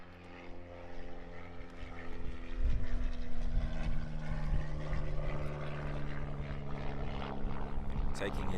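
A Pitts S-1S aerobatic biplane, fitted with a 180-horsepower engine and a fixed-pitch propeller, flies at an aerobatics championship. Its propeller drone swells as it passes, loud and continuous.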